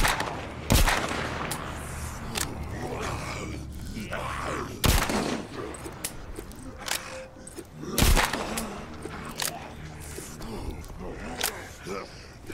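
Gunfire in The Walking Dead Saints and Sinners VR game: three loud, sharp single shots spaced several seconds apart amid clattering handling noises and scattered clicks, with a person talking between shots.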